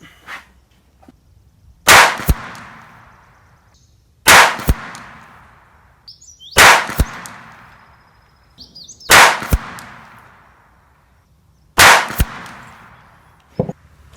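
Ruger Mark IV .22LR pistol firing at a 100-yard target: five sharp, loud shots spaced roughly two and a half seconds apart, each with a short ringing decay, with no talking.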